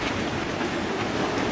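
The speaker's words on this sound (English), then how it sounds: "Despite the protection of the coral reef, significant waves came into the lagoon." Waves roll into a coral reef lagoon where boats ride at anchor, heard as a continuous loud broadband wash of surf and wind noise with no pauses and no speech.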